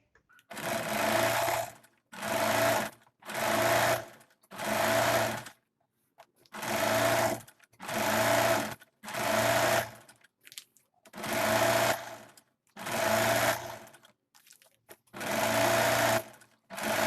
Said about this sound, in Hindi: इस तरह से अब हम ऊपर की साइड इसमें टॉप स्टिच लगा लेंगे।